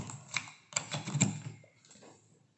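Keys clack on a budget gaming laptop's keyboard in a quick, quiet burst of taps, a handful of close, light presses that trail off into near silence.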